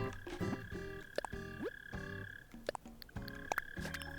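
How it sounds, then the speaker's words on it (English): Frog croaking from the Animal Crossing: New Horizons video game, a run of short, rhythmic croaks repeating several times against the game's steady background music and ambience. "Do I hear a frog?"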